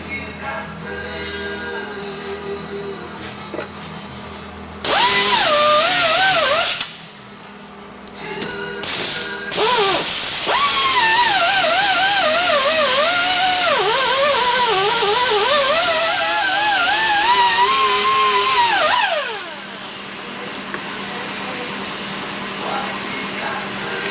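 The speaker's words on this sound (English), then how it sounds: "We're going to grind it, and that'll get it smoothed in." Power grinder working the bodywork of a 1955 car, a loud whining grind that wavers in pitch as it bears down and eases off, running in long stretches with brief pauses, with a voice heard nearby.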